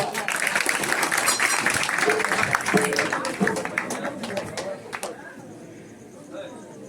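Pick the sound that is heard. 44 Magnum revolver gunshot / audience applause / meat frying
audience applause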